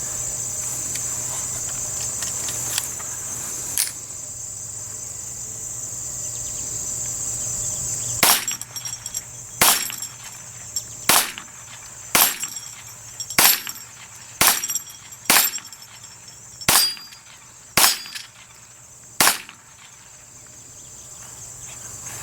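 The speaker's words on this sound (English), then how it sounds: "Let me shoot it a few more times." About a dozen sharp gunshots from a Ruger Mark II Competition Target pistol, fired one at a time at a steady, unhurried pace after a quieter stretch with steady insect-like hiss, each crack loud and close.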